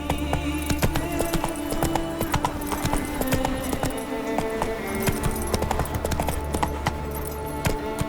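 Roach the horse gallops in The Witcher 3, steady rhythmic hoofbeats clopping close and clear over a low ambient music bed, with no talking.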